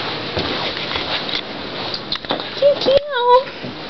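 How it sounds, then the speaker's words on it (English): A cat lets out a short meow close by near the end, a brief rising-falling cry that comes after a stretch of indoor rustling and handling noise, with people talking nearby. "Oh, that's a cat."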